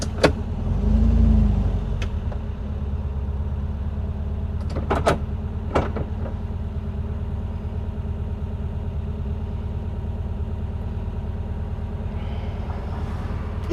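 A 1968 VW Type 3 Squareback with an 1835cc engine idles steadily with a low, continuous rumble, joined by a few brief sharp clicks or knocks near the start.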